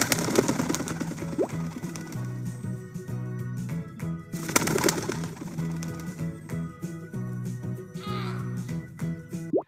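Birds calling in a video played in a classroom, with repeated soft cooing calls over background music, moderately loud and recurring through the clip.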